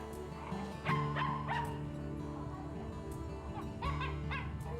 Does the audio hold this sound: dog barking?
yes